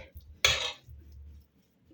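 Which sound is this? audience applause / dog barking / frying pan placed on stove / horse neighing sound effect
frying pan placed on stove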